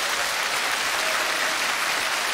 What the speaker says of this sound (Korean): 박수 주십시오